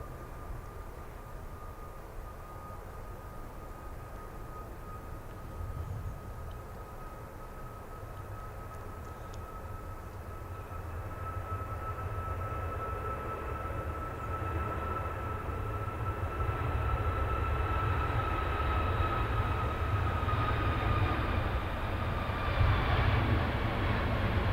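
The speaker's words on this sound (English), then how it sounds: "the next one's a TUI 737 MAX 8 that's going to Tenerife" Jet engine roar from a TUI Boeing 737 MAX 8 departing Manchester Airport toward Tenerife, a steady broad rumble with a rising whine that grows gradually louder over the span, heard at a distance with no talking.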